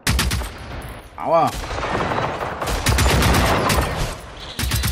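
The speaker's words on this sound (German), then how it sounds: "Das klingt so futuristisch, wenn ihr mit dem Schalldämpfer schießt." Rapid bursts of suppressed gunfire in Generation Zero, soft futuristic silenced shots repeating quickly over game noise, with a brief voice exclaiming.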